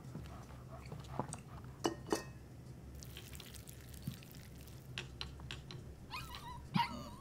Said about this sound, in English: Oh, poor dog.